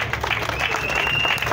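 A crowd applauding at a political rally, dense and loud clapping sustained throughout with a voice carrying over the top.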